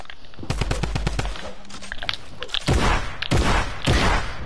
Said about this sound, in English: I missed like all my shots right there